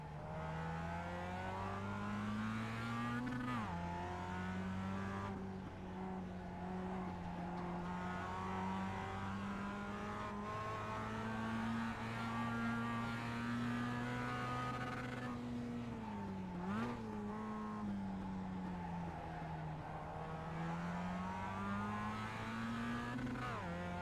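Mazda MX-5 Cup race car at Tsukuba Circuit in the iRacing sim, its engine droning loud and continuous at high revs, pitch dropping sharply for downshifts and corners then climbing again, with faint tire noise and no voices.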